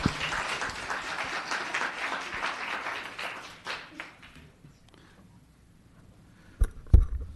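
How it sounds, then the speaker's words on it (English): Applause at a town council meeting rises at the start and holds steadily, then thins out and fades toward the end, followed by a couple of sharp knocks near the close. "One more round of applause for Isabella."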